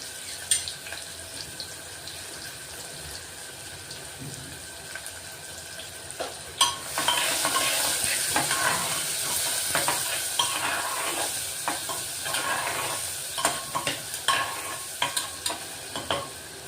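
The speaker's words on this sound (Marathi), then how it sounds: "कांदा चांगला लाल करून घेऊ।" A large finely chopped onion frying in a pan for a bottle gourd and chana dal vegetable dish, quiet at first, then a loud sizzle and rhythmic stirring scrapes that keep going to the end.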